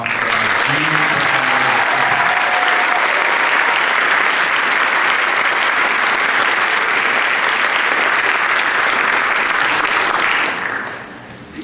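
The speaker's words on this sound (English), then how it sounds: "One more big round of applause" Loud, sustained applause from a large crowd at a high school scholastic honors night, clapping steadily, then tapering off quickly near the end.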